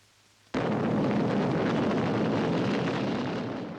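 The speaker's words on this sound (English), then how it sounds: "Britain's first hydrogen bomb" Loud, sustained roar of a British hydrogen bomb test off Christmas Island, bursting in suddenly after a faint hush and rumbling on densely and evenly for several seconds.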